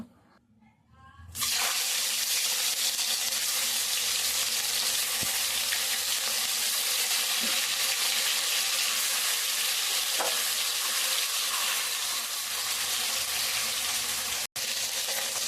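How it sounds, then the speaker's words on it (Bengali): Katla fish seasoned with salt and turmeric sizzles steadily in hot oil as it browns, a loud continuous crackle that starts after a quiet second and runs unbroken to the end, with a brief drop near the close. "নিয়েছি কাতলা মাছ, নুন হলুদ মেখে নিয়েছি, এখন লাল লাল করে ভেজে নেব"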